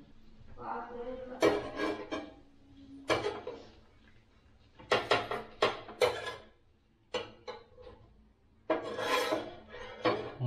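Egg being beaten in a bowl, with bursts of rapid rasping, clattering strokes separated by short pauses, moderately close, alongside occasional speech.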